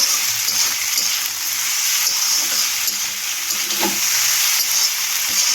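Fried egg and pasta stirred together in a hot oiled pan, a loud continuous sizzle with scraping stir strokes close up and no talking.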